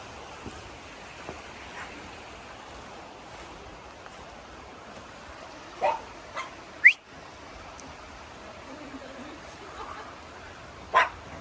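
A dog gives a few sharp, isolated barks outdoors near the sea, with surf, wind and occasional birds in the background.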